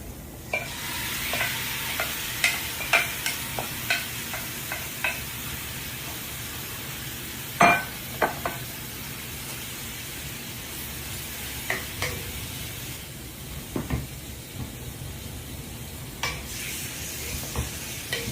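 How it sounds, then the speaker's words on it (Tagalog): Marinated pork for adobo sizzles and fries in a pan, a steady loud hiss broken by repeated scraping stirs and clinks, with no talking. "Then, we'll put our marinated pork."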